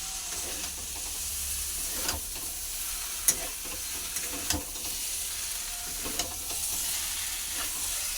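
Shrimp fry in a pan, giving a steady broad sizzle with soft stirring scrapes and a few sharp pops and clinks scattered through.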